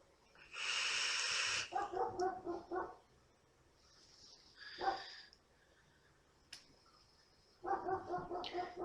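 A dog barks outside in a couple of clustered bursts of rapid, fairly loud barks, separated by a quieter stretch with scattered small noises.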